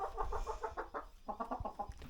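Backyard chicken clucking close by, a quick run of rhythmic throaty clucks, a short pause, then another burst, quiet and alone with no talking.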